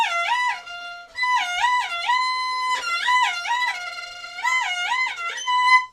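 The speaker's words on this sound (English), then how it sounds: "Now that is the start of wrist vibrato." Bowed string instrument holding sustained notes with a beginner's wide, slow wrist vibrato, the pitch wobbling in uneven waves across several long tones, played alone and up close.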